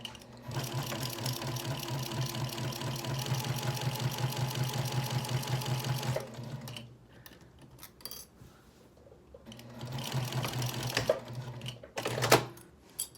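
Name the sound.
sewing machine sewing and backstitching a project bag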